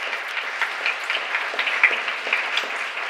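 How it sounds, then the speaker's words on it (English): Applause from a crowd at an outdoor Baltimore Washington One Carnival festival announcement, fairly distant and moderate, scattered claps blending into a continuous wash with no talking over it. "Give them a big round of applause, you all."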